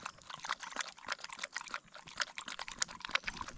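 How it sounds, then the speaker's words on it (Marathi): Water is poured out for a thirsty dog, giving faint, irregular splashing and trickling up close that pulses on and off without speech. "मग काय, जबरदस्तीने त्याला पाणी पाजलो."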